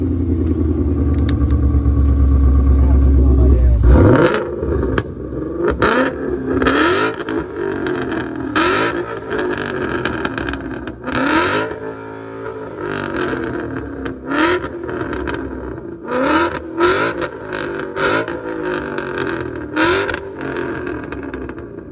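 A car with a 5.0 engine revs hard at a car meet, starting with a loud sustained roar, then repeated throttle blips and rising, falling revs in short bursts, close and dominant throughout.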